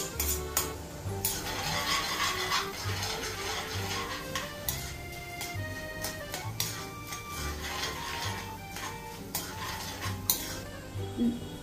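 Coriander seeds fry in hot oil in a kadai, giving a soft continuous sizzle broken by repeated scraping and clinking of a spoon stirring against the metal pan.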